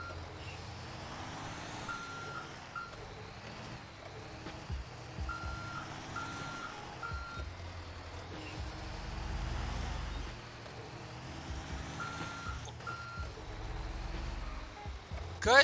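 Reversing beeps from a truck in GTA V roleplay, a steady series of evenly spaced electronic tones repeating over rumbling engine and traffic noise, with faint game ambience throughout.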